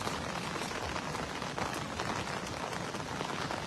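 Heavy rain falls outdoors by a tilapia fishing spot, a dense, even hiss of drops that stays constant and fairly close throughout.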